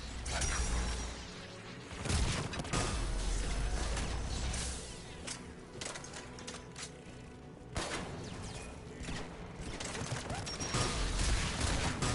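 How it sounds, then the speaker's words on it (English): Anti-aircraft guns fire in the Mass Effect 3 game. Dense, continuous bursts of loud gunfire and mechanical clatter run throughout, swelling in heavy waves at several points. "AA guns ahead of us."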